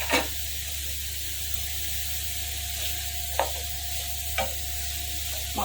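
Cut potatoes tossed into onions frying in a pan and stirred, a continuous close sizzle with a few sharp scrapes of the spoon against the pan, no voices.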